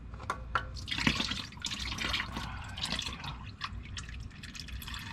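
Engine oil drips and trickles from the filter housing of a 2022 Honda HR-V, a close, irregular patter of drops splashing into oil below, steady throughout with no talk.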